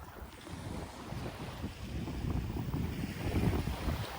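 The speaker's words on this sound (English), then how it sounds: "The wind is blowing this way, I believe." Steady wind gusting across open water at a sandbar beside a beached skiff, with low rumbling buffeting and wave wash that builds slightly toward the end, no voices.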